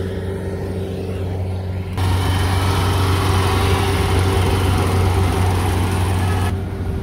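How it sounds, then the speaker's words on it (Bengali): Engine of a rice paddy harvesting machine running steadily in a village, a loud, constant low rumble that gets louder and fuller partway through and then drops back near the end. "ধান কাটার মেশিন"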